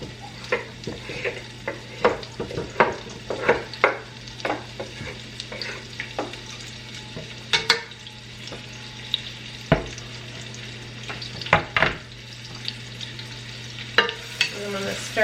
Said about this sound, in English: And I'm going to stir that up and cook that in this bacon grease